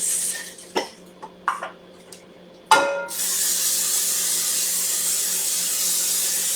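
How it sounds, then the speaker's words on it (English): Vegetables drop into a hot pan for a quinoa breakfast bowl and burst into a loud sizzle that settles into a steady hiss, after a few sharp knocks and a cough. "now we're about to saute our vegetables"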